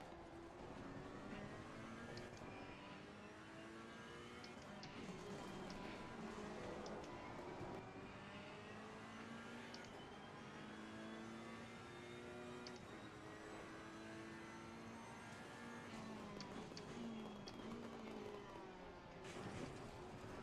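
Race car engines in the Assetto Corsa Competizione racing game, played in VR, droning and rising through gear changes in a continuous faint roar, with other cars' engines layered in and no talking.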